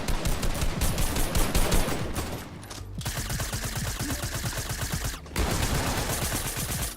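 Rapid, dense automatic gunfire from a shooter video game rattles almost continuously, loud and close, with two brief pauses between sustained bursts.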